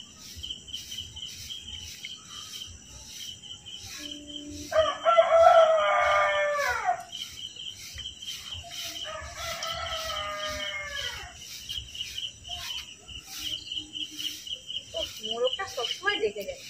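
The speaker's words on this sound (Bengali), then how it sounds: "মোরগটা সবসময় ডেকে যায়, 4টে বাজলে ওরা ঠিক অ্যালার্ম দেবে যে ভোর 4টে বেজে গেছে।" A village rooster crows loudly nearby at dawn, two long calls in a row, over a constant bed of chirping crickets and insects, with a few softer fowl sounds near the end.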